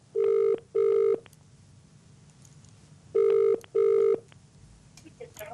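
Four electronic telephone tones sound during a live television phone-in call, evenly spaced in two pairs, loud and clear, with a quiet gap between the pairs and faint speech at the end.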